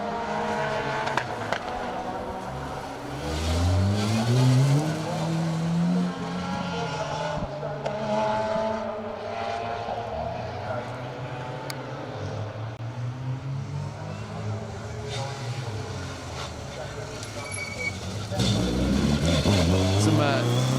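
A battle-scarred Mazda RX-8 rally car with damage down its left side runs a rally stage, its rotary engine rising and falling in pitch through gear changes as it passes. A commentator talks over it throughout.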